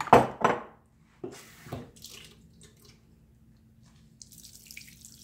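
Water dumped out of a small basin after wringing a cleaning cloth in hot water, with a couple of close splashing pours at the start followed by fainter drips and trickles.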